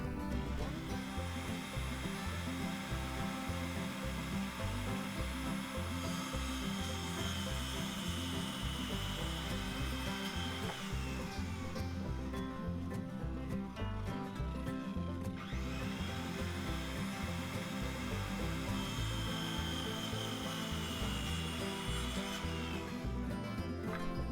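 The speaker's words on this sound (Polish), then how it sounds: "Należało je tylko przyciąć na wysokość skrzynek." Wooden beams cut to length with a power saw, a loud, continuous whining buzz that dips briefly twice as the blade moves through the wood, with no voice throughout.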